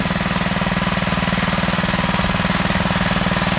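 A Husqvarna TF 230 motor cultivator on its first trial run chugs loudly and close, with a fast, regular pulsing engine beat that holds steady throughout.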